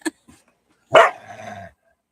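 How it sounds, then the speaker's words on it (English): Two dogs bark and growl at each other indoors: a short yip, then a louder burst of barking trailing into a growl, close and alone without talk. "Even my dogs don't want to be nice to each other."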